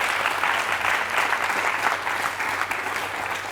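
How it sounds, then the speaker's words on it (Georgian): A studio audience on a Georgian book quiz show applauds at the end of a round, a loud sustained burst of clapping that holds steady for several seconds. "აპლოდისმენტები"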